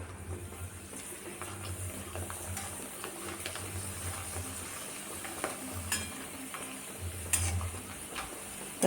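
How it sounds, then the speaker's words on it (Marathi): Poha chakli frying in very hot oil, with a soft continuous sizzle and bubbling and occasional faint clinks of a utensil against the pan, fairly quiet. "तर तेल छान कडकडीत गरम झालेलं आहे आता आपण चकल्या तळून घेऊया"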